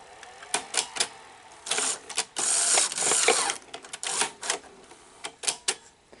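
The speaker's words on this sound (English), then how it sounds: "See, it doesn't want to eject. It wants to go about halfway and then wants to go back." A Sony SL-HF600 Betamax deck that won't eject whirs and clicks as its mechanism cycles halfway out and back again. Close, busy ratcheting and clacking bursts with short motor runs between them.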